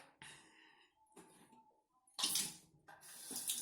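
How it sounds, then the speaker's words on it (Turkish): Water running from a tap in a bathroom during an evening routine, heard as faint, uneven bursts of splashing flow with short quiet gaps between them. "Suyu açık."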